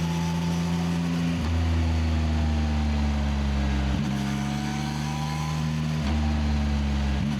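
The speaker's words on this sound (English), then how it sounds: "I love that low RPM growl of this exhaust system" Low-RPM exhaust growl from a 2026 CFMOTO 675NK motorcycle, a deep steady engine drone held close and loud, with brief dips as the throttle shifts twice.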